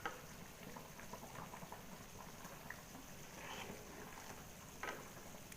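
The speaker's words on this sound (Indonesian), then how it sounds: "Karena udah mendidih ya." Coconut milk curry with cassava leaves simmering in a pot, a low steady bubbling and faint popping hiss with a few soft clinks, fairly quiet and without talk.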